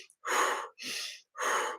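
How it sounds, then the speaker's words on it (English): Three forceful breaths pushed out through the mouth during a breathwork exercise, each a loud airy whoosh lasting about half a second with short gaps between, close to the microphone. "exhale out the mouth"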